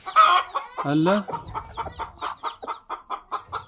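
A hen brooding ducklings clucks in a rapid, rhythmic series of short calls up close, after a brief voice and a longer squawk at the start.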